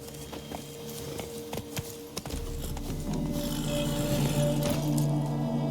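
Horse hooves clip-clop in The Witcher 3 video game, a steady walking rhythm close by that continues throughout against a sustained musical and ambient backdrop.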